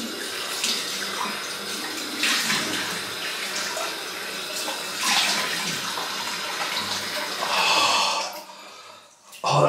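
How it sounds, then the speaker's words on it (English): A tap runs cold water for a rinse, a steady loud gushing and splashing close by that shifts as it flows, then cuts off near the end. "Right, cold water rinse"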